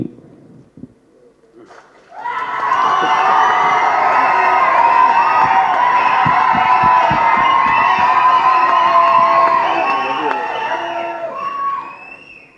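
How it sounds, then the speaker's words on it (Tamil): A large crowd at a Tamil movie audio launch breaks into loud applause and cheering with high shouts, swelling after a brief bit of speech and fading near the end. "பேரை சொல்லாமலே இவ்வளோ கைத்தட்டலாம்"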